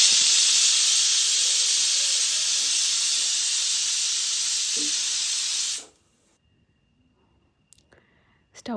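A pressure cooker on the stove with pineapple curry inside vents steam in a loud, steady, close hiss that cuts off abruptly, leaving near silence broken by a few faint clicks.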